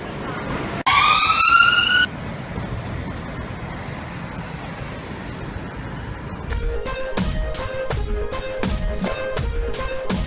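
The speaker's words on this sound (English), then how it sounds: "Yes, that's the police bike." Wailing police motorcycle siren, a loud rising tone in the first seconds, then a rapid pulsing yelp pattern later, over steady street noise.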